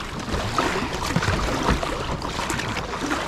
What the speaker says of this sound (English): Paddling against the tide still